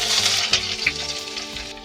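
Chopped onions dropped with nigella seeds into hot oil in a kadai, sizzling loudly and steadily with crackling bursts and a few stirring scrapes, close up and alone.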